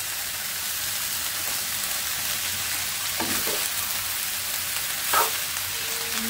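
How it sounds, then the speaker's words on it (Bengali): Cabbage and cumin frying in hot oil in a home kitchen, a steady dense sizzle with no pauses and a couple of brief scraping stir sounds near the end, and no voices. "পাতাকপি ভাজি জিরা গরমে দিয়ে তেলে দিয়ে"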